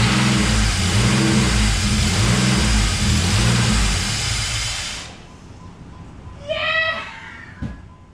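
A car engine, newly replaced in a restored project car, revs loudly and steadily for several seconds before dropping away, followed by a faint high whine and a single sharp knock.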